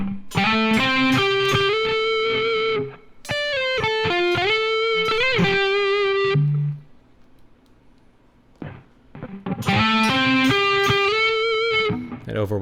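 Electric guitar through Fishman Fluence Greg Koch Gristle Tone Telecaster pickups with the tone knob rolled off: warm, slightly distorted picked phrases and bends in bursts, separated by short pauses, close and clear.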